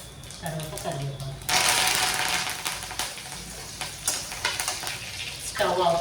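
Curry leaves hit hot oil in a pan of tempering with crushed garlic, bursting into a loud, close sizzle that crackles on steadily, with talking before and around it.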